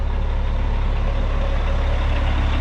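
MCI E4500 coach bus rolling over very rough road, a loud, steady low engine rumble with a dense road drone and faint rattles layered over it, continuous and close with no voices.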